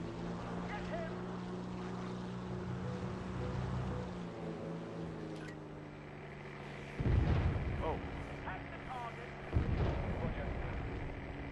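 In the IL-2 Sturmovik flight game, a steady aircraft engine drone is broken by two heavy, rumbling bomb blasts, the first deep and long and the second sharper and shorter.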